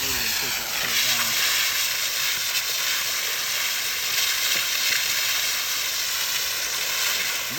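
Pool filter cleaner nozzle with a flat fan tip sprays a strong jet of water against a pool filter, giving a steady, loud hiss with no break.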